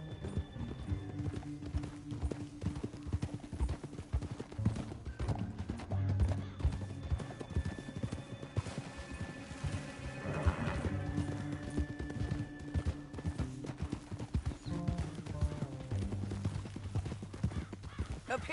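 Several horses clip-clop steadily over ground amid dense, busy sound with occasional whinnies, with no talk.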